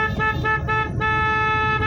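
A car horn blares in a sustained honk during a driving lesson, loud and close, with a brief dip before continuing.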